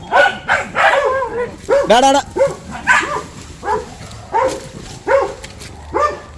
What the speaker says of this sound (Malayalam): വേറെ ഏതോ പട്ടി